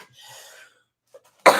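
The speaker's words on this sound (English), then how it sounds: "this cough is too much" A single harsh, loud cough bursts out near the end after a stretch of faint breathy sound and quiet, from a woman suffering a lingering cough during flu season.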